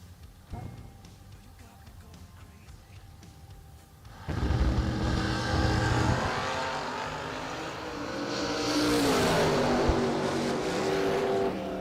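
A drag racing car launches down the strip with the throttle ripped open at a 2022 season kick-off meet. After a quieter idle, a loud, roaring engine bursts in and holds a sustained, rising blast to the end.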